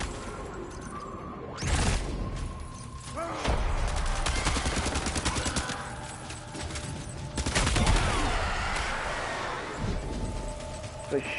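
Video game gunfire crackles in repeated bursts and volleys over a busy, continuous background of clanking and rumbling, with loud impacts near the start and middle, and a voice talks over parts of it.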